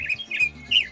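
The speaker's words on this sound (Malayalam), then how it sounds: "ഒരുപാട് കിളികളുണ്ട് കേട്ടോ ഒരുപാട് കിളികൾ" Many birds call at Kumarakom bird sanctuary on Vembanad, with several loud, harsh squawks in quick succession over a busy background of other birdsong.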